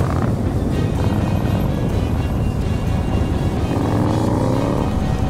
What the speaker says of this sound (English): Bit of revving.